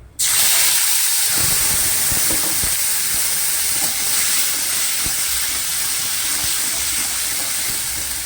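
Ginger, cumin and green chilli spice paste dropped into hot oil after dried red chilli tempering, bursting into a loud, sustained hissing sizzle that holds steady throughout.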